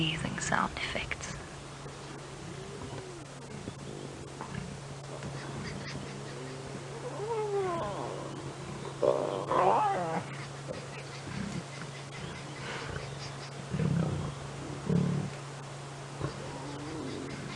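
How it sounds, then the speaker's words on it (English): Lion cubs squeal and fuss at a carcass on a sunset safari drive, with thin high squeaks and cries scattered through the clip over a steady low hum, faint rustling and soft whispered talk nearby. "Squealing, fussing cubs."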